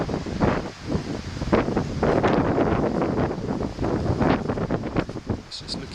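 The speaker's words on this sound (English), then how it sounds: "It's really windy today, so I apologise for the wind noise." Strong wind buffets the microphone continuously, a loud roaring rumble with gusty surges throughout.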